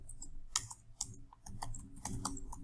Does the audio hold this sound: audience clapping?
no